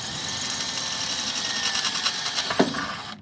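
A power drill bores rivnut holes through a track-car aero wing mount on an R56 Mini Cooper S, a steady whining drone with rising bursts of bit chatter near the end before stopping abruptly.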